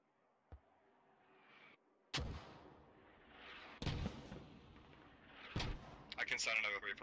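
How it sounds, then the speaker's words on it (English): A mortar barrage in Squad: three heavy, booming launches a couple of seconds apart, each with a rumbling tail. They are preceded by a faint thump and followed by scattered noise and brief radio-like chatter at the end. "Sending mortars now."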